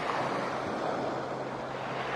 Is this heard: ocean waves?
yes